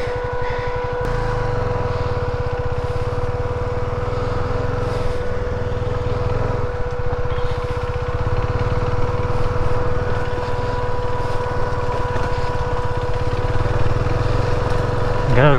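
Vehicle engine labouring on a slushy off-road hill loop near Yercaud, a steady close droning motor with rough mechanical pulsing throughout, and people talking over it.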